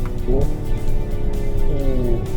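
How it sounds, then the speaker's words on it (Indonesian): Synthetic engine note inside a Hyundai Ioniq 5 N electric car rises and drops in pitch as it downshifts, over steady road and cabin rumble. "Kita downshift nih, kita dengerin suaranya."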